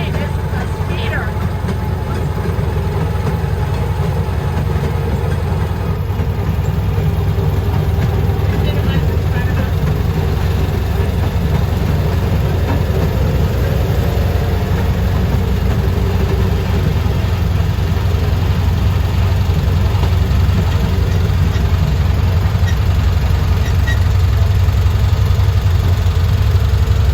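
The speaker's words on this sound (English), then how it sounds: "Woo, it goes pretty fast for a train." A rail speeder's engine runs steadily along the tracks, a loud continuous mid-pitched drone with rumble throughout the ride, while people talk over it.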